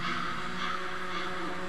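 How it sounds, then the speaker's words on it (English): A crow caws in the video game Condemned 2, a steady, fairly loud harsh call that carries through the whole short stretch over a dense ambient game background, with no talking. "The crow."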